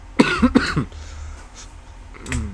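A person coughs two or three times in quick succession, loud and close, followed by quiet room tone and a faint throat-clearing near the end.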